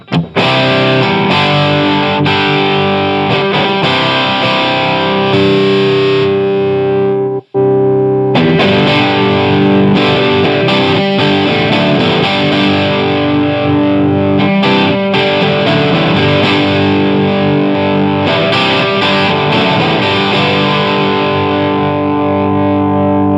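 Heavily overdriven electric guitar through a Granville Super Chief amplifier, playing sustained distorted chords and riffs, loud and continuous, with one brief dropout partway through.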